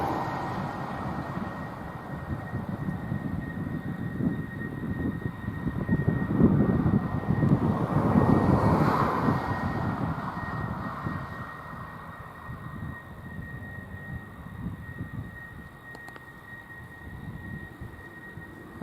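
An F-16 fighter jet flying near Lakenheath air base, a broad engine roar that swells to a peak midway and then slowly fades, heard alone at moderate distance.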